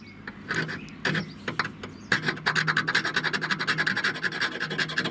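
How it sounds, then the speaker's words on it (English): Close, harsh metallic scratching as a drill bit scrapes white corrosion off metal on a Citroen Dispatch van: a few separate scrapes, then a fast steady run of rasping strokes against metal. "If I was to get a sharp implement, there's a drill bit here, this will do, and I just scratch this off here"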